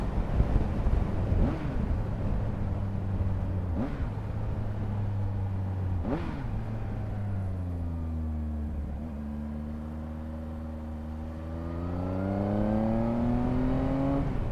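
A Triumph Speed Triple RS motorcycle engine pulls hard and revs up repeatedly as it shifts through gears, with steady wind rushing past throughout.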